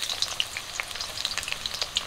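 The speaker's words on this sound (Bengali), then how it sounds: "তেল গরম হয়ে গেছে, পেঁয়াজ কুচি দিয়ে দিচ্ছি" Chopped onions go into hot mustard oil in a wok, giving a steady crackling sizzle with small bright pops scattered throughout, close and moderately loud with no voices.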